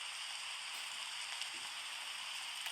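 Steady rain hissing in the forest survival video game 99 Nights in the Forest, a constant bright wash with no talk over it.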